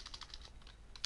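Rapid keystrokes on a computer keyboard while typing code, a steady patter of quiet, close clicks at a brisk even rhythm with a sharper tap at the end, no talking.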